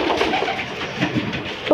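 Soft, low pigeon cooing up close, a steady murmuring burble with a slight rise near the end.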